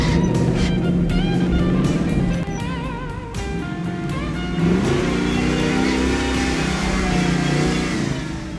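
A 1955 Willys Wagon truck grinds up a steep, muddy hill off-road in low gear, its engine revving loud and steady throughout with strained, fluctuating pitch, and no one speaks over it.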